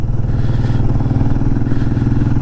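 Motorcycle engine running steadily at close range on a winding mountain road with hairpin bends, a constant low drone with a rhythmic pulsing throb and no talk.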